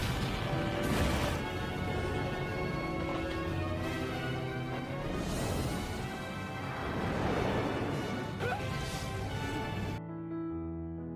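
Stone statues smash apart in a Fullmetal Alchemist anime fight, repeated heavy crashes and crumbling impacts layered over dense music, loud throughout before cutting to a quieter tail.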